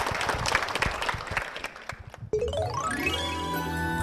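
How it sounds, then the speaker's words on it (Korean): A church congregation applauds two guests in a dense burst that fades after about two seconds, then gives way to sustained musical tones with a chiming sweep. "두 분께 큰 박수 부탁드립니다"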